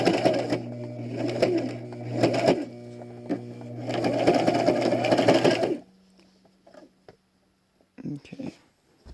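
A sewing machine backstitches half-inch bias tape strips for face masks, running in several loud bursts with brief pauses between them, then falling quiet, with a few soft handling clicks near the end.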